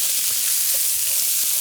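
Minced garlic and vegetables for butterbean succotash sizzle steadily in a hot pan while being stirred, a close, constant hiss with soft scraping and no talking.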